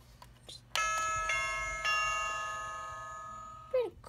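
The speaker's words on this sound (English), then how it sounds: "And we also have a doorbell." A toy doorbell from a toy house set rings with one bright electronic chime that sustains and slowly fades for about three seconds. A short falling tone follows at the end, with faint handling noise before it.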